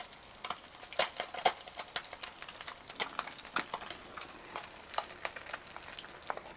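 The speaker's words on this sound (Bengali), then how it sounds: "এখন মাছটা একটু কড়াই হালকা লেগে গেছে, তাই আমার একটু সময় লাগতেছে উল্টিয়ে দিতে।" Bele fish sizzle in oil in a kadai with the fish slightly sticking to the pan, a soft continuous close frying hiss broken by sharp crackles and spatters at an irregular rhythm.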